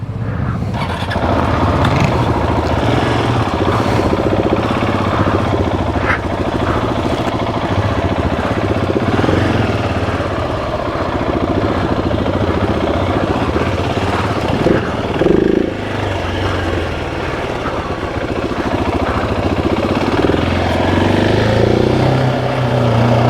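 Dirt bikes running off road in the Canadian Rockies, a steady close engine drone with revving that holds loud throughout, the motor note rising and dipping over a continuous rumble.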